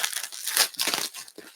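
Bubble wrap is crinkled and pulled during the unboxing of mailed comic books, making close, rustling crackles in uneven bursts.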